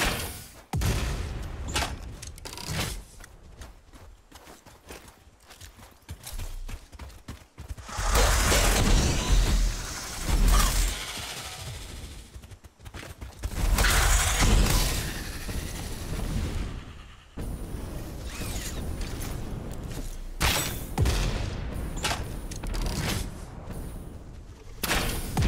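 Exploding rebar bolts fired in Satisfactory, a string of loud thumping shots and booming blasts spread across a busy stretch of game combat, with bursts of rumbling and crackle between the hits.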